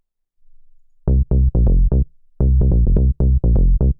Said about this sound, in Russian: И второй бас здесь это саб-бас, который в точности повторяет структуру основного.